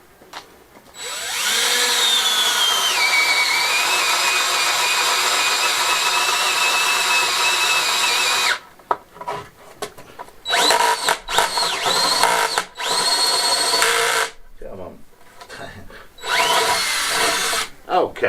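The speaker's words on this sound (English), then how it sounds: "I'm just going to put 3 fixings in the wall, just drill them through" A power drill drilling fixings into a courtyard wall whines steadily for several seconds, then runs in shorter bursts with brief pauses between, loud and close.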